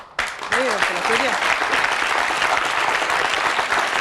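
A French talk show studio audience breaks into applause after a short voice, the clapping swelling quickly into a dense, steady roar that holds to the end.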